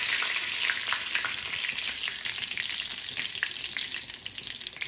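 Asafoetida and curry leaves sizzle in hot oil, a close, continuous hiss and crackle with scattered pops, steady throughout and slightly easing at the end.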